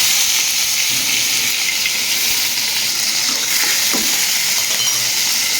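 Onion and tomato frying in hot cooking oil for tortang talong, a loud continuous sizzle with occasional crackles and stirring clinks throughout.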